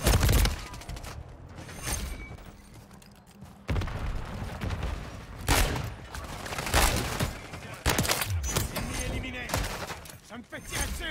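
Loud gunfire bursts keep going in the Warzone 3 video game, with rapid shots and heavy impacts over a busy background and a player's voice in places.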